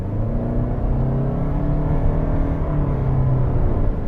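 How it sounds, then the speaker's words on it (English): A 4-cylinder gas engine in a 2021 Toyota Venza LE Hybrid SUV starts up after electric driving, a steady droning rumble with slowly rising harmonics as the car gains speed, heard from inside the cabin without talk. "the gas engine will kick back on"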